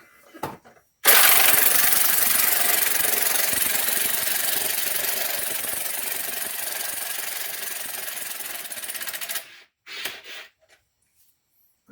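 Ryobi power driver whirring steadily for about eight seconds as it backs out a rusty hood prop bolt on a Corvette, loud and close, followed by a couple of short bursts.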